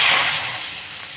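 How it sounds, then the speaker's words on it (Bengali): Water is poured into a hot wok for cooking jackfruit, making a brief loud splashing hiss that fades quickly. "এতে জল দিয়ে দেবো"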